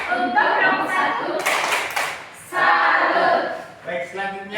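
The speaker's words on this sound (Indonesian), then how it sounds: "Kita beri tepuk salut dulu untuk kelompok 1" Classroom students clap a rhythmic salute for group 1, with bursts of group clapping mixed with chanting voices, loud and close, pausing briefly between rounds.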